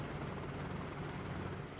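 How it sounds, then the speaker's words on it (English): Simulated helicopter blade slap from the Cowan helicopter in MSFS 2024, a steady loud rotor thump and whine with a low rhythmic pulse, continuous and close with no talk. "Bit of blade slap sound effect there coming from the Cowan helicopter"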